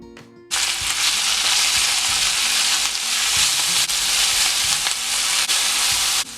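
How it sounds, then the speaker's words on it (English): Hariyali paneer tikka ingredients with coriander leaves, mint leaves and salt frying in a hot pan, a loud steady sizzle that starts abruptly after half a second and carries on alone with faint stirring clinks. "Fry well."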